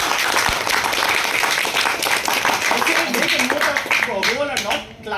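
Audience at a Toastmasters meeting applauding, dense steady clapping from a room of people that tapers off at the end, with voices speaking over it toward the close.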